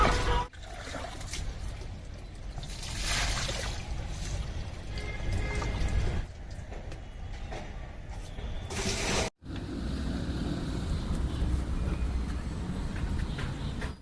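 Water poured steadily onto potted plants at home, a continuous trickling and splashing wash that runs nearly unbroken, with a brief gap just before the final stretch.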